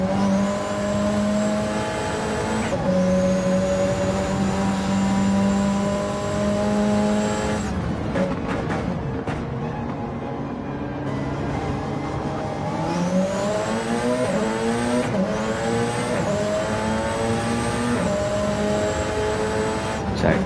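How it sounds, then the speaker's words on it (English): Onboard view of a Porsche 919 race car lapping, its engine note loud and close throughout, rising and falling through gear changes with repeated upshifts and downshifts, no talk over it. "see what it's like through a Porsche 919"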